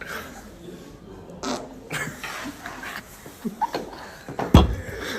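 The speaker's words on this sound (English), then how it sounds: "Cover up the fart." A fart in a compilation of boys' farts: a short, loud burst near the end over a noisy background, with a few earlier muffled thumps.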